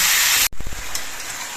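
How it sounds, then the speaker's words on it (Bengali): Ridge gourd sautéing in a pan without salt gives a loud hissing sizzle that cuts off abruptly, followed by a few quick clinks and a quieter, fading hiss. "4-5 মিনিটের মতো আমি ঝিঙেগুলো কষিয়ে নিয়েছি"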